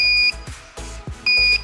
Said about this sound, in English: So it comes with a buzzer and an alarm.